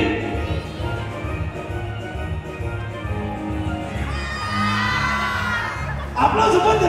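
Audience at a live children's show in Spanish, cheering and shouting with whoops in a steady crowd roar that swells near the end, clapping not clearly distinct beneath the voices.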